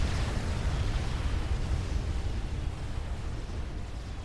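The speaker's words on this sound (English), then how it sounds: "Nuke does land over here. Very pretty explosion from Nasimka." A nuclear missile detonating in Supreme Commander: Forged Alliance, a broad, rumbling explosion with a deep low roar that stays dense and sustained before slowly fading, heard alone without voices.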